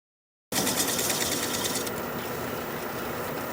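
A wood lathe spins at about 600 RPM while a 3/8 inch standard grind bowl gouge cuts away a bowl's tenon. It makes a steady, close mechanical whir with a bright scraping hiss that lasts about a second and a half, then eases slightly.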